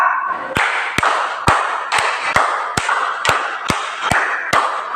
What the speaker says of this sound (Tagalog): Bigyan niyo yung sarili ng 10 palakpak.